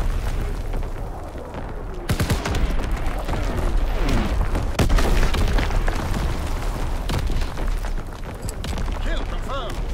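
Artillery strike explosions rain down in Call of Duty: WWII, heavy booms rolling one after another over background battle noise with a voice talking in places.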